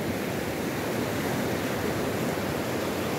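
Sea water surges where the ocean meets the mouth of the Caraíva river, a steady broad rush of surf that stays even and unbroken, with no one speaking.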